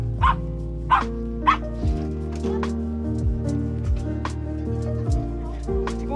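A few sharp dog barks ring out early in quick succession, then fainter yips continue over background music.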